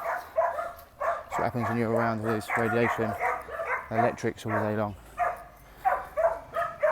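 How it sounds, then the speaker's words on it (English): A dog barking and yipping in the background, several short barks in bursts under someone talking steadily, fairly close but partly masked by the voice. "Excuse the barking."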